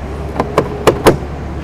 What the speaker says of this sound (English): You're gonna go ahead and lock the door.